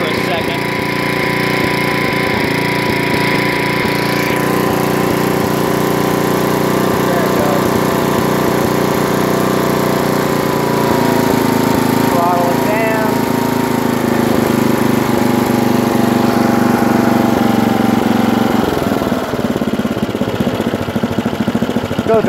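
A Troy-Bilt 33-inch wide cut mower engine idles loudly and close as it warms up, a steady continuous drone that shifts slightly in pitch near the end.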